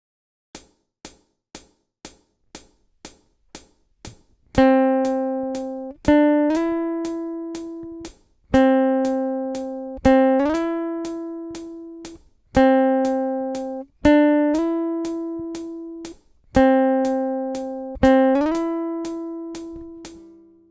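Guitar finger exercise: a run of soft ticking beats leads into repeated plucked notes that slide up in pitch, each ringing out and fading in a steady pattern, close and clean with no voices.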